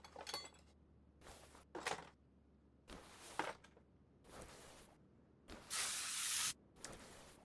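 DW-40 penetrating lubricant is sprayed onto a Porsche 911 Carrera 4S (991) engine in a series of short hissing bursts, with the longest burst near the end, close and fairly quiet against a silent background.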